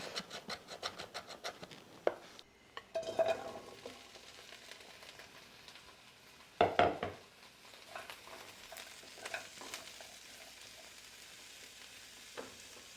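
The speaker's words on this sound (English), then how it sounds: "And I'm going to stir fry this for about 3 minutes." Onions and ginger stir-fried in a pan, with a low continuous sizzle broken by scraping and clattering strokes of a utensil, including several sharp louder knocks.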